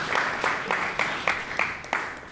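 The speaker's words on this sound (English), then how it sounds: "Always good to start with some applause." Scattered handclaps from a crowd, a modest round of applause with rhythmic bursts at steady intervals, moderately close and fading slightly.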